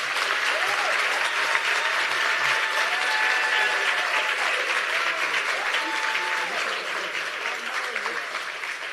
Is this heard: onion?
no